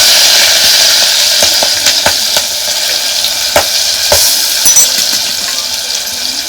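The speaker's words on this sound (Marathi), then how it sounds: "आता ह्या मिरच्या सोडल्या की ह्याच्यात आपल्याला सोडायचंय लसूण खोबरं" Chillies, garlic and coconut frying in hot oil for a Marathi bhaji masala, a steady close sizzle with scattered sharp pops and crackles throughout, no voices.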